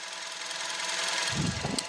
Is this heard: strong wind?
no